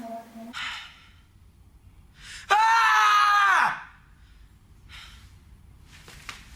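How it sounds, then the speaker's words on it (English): A cartoonish character in High School Musical 2 lets out a loud, sustained scream of about a second, framed by shorter breathy gasps and sighs before and after. "His scream is a lot like Ren's scream from Ren and Stimpy."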